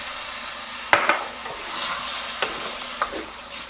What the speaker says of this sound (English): I'm just stirring the bottom to get the brown stuff off